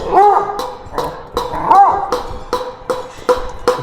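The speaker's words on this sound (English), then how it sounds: "Dogs that look like they're about to get down and dirty" Dogs at play in a mountain village yip, whine and give short barks, with several quick yelps and a couple of whimpers at close range and no one talking.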